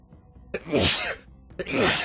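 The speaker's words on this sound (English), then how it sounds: "I just sneezed so hard my headphones came out." A person lets out two hard, explosive sneezes in quick succession, loud and close to the microphone, with a brief pause between them.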